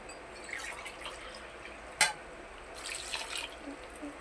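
Water trickling and splashing softly into a bowl of boiled taro roots, a quiet close pour with one sharp clink partway through, no voices.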